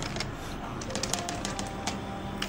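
Keys clicking on a computer keyboard while entering text for a birthday flyer design, light scattered taps over a steady background hiss.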